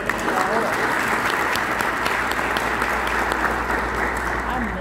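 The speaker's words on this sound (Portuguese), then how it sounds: "Você pode dar uma salva de palmas para ele?" Congregation at a Christian prosperity teaching session bursts into sustained applause, a dense, steady wash of clapping from many hands that fills the room at even loudness throughout.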